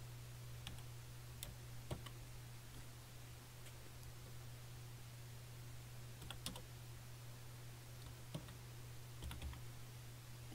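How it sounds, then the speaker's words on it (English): Random code tapped out on a computer keyboard: sparse, quiet key clicks in uneven bursts over a steady low hum, with no voices. "I'm gonna type in a random code"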